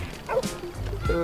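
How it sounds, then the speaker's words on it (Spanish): A dog in the Lego City Undercover game on Wii U gives a short, near bark and whimpery yip, a single quick burst lasting about a second. "Acá hay un perro."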